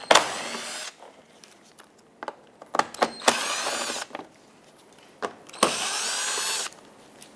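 A power tool whirs out 8 millimeter bumper cover screws on a 2014-2021 Mazda 6, with three sustained close runs of about a second each, separated by sharp clicks and clunks of handling and no talk.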